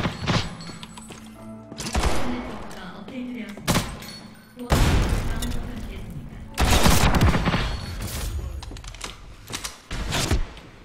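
Bursts of gunfire in a multiplayer shooter video game, near and loud, arriving in several clustered volleys with brief pauses between them, set against a busy game soundscape.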